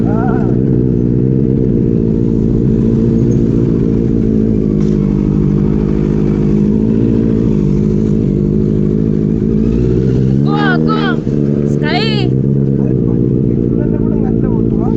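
A motorcycle ridden in first gear, its engine droning steadily and close with a low rumbling tone and slight rev changes, while people talk over it.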